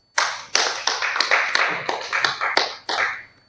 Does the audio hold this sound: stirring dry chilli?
no